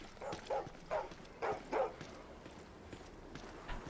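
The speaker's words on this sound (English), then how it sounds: "Dog's gonna eat me." A dog barks in the survival game Stay Out, four or five short yelps in two quick pairs at moderate distance, followed by quieter shuffling steps and faint ambient noise.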